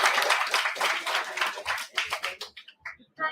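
Audience applause at a Department of Tourism and Travel Management event welcoming a special guest, dense clapping at first that thins into scattered, separate claps toward the end.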